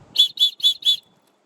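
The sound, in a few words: survival kit whistle being blown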